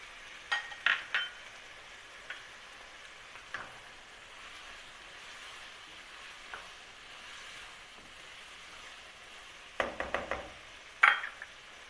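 Keema macaroni cooks in a pan with a soft, low sizzle, broken by sporadic scraping knocks of a spoon stirring, clustered near the start and toward the end.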